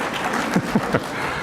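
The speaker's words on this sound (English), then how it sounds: "It's okay if you can clap for your alumna institution" Audience clapping at a mural unveiling in San Antonio, a short steady patter with a few louder individual claps standing out near the front.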